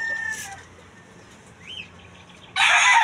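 A rooster crows on a farm field among vegetable plots. The calls are short and fairly close: a brief cry near the start, then a loud burst at the end over quiet outdoor background.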